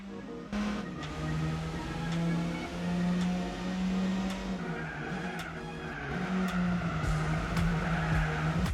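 A turbocharged 2.0-liter 2002 Ford Focus RS with a 5-speed manual drones in Gran Turismo 4, a steady engine tone rising and falling through shifts under tyre noise and wind roar, loud and close.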